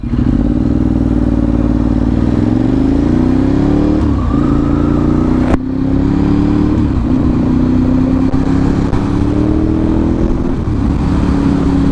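A motorcycle is ridden after seven months in storage, its engine droning loud and steady with gentle rises in pitch as it speeds up, dominated by wind rumble and without talking.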